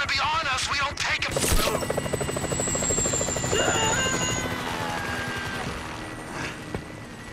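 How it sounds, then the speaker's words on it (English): Helicopter in the Grand Theft Auto 5 video game, a steady rotor drone running through the whole stretch with a sharp crash near the start and brief whine layered on top. "That chopper's gonna be on us."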